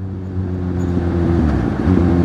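A car engine hums steadily from inside the vehicle, a low droning rumble that swells slightly louder toward the end, with no talking over it.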